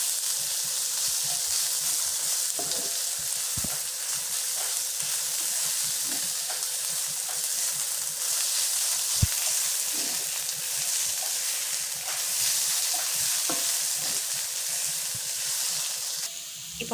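Garlic and chopped ginger sauté in a skillet with a loud, dense, continuous sizzle and occasional soft knocks from stirring, with no voices present.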